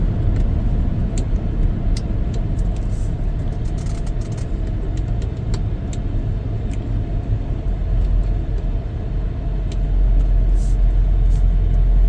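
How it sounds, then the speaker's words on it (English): A 2021 Ford F150 XL regular cab pickup rolls along with a steady low road rumble and tyre noise inside the cab, slowing under braking as the engine note shifts near the end. "I'm going to go ahead and check the brakes again."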